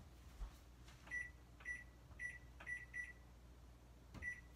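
A kitchen timer being set in a home kitchen while cookie dough chills, giving a series of short, evenly spaced electronic beeps, about seven in all, each with a soft click, against a quiet background.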